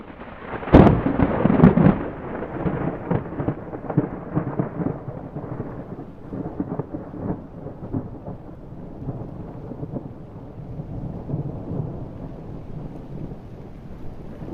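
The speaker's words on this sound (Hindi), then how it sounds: "बारिश जोर जोर से हो रही थी" Heavy rain falls with a loud thunderclap near the start, then rolling rumbles and a steady downpour continue for the rest of the scene.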